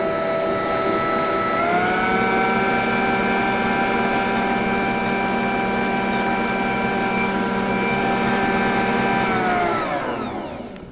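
A blender whips topping for a healthy ice cream with a loud, steady motor whir and a bright tonal hum that holds for about nine seconds, then winds down near the end.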